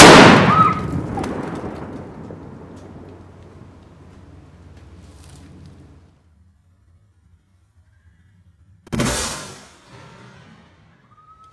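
A firecracker rocket bursts right beside a test skull with one loud, sharp blast that rings out and decays over several seconds, then a second sharp crack follows after a pause of near silence.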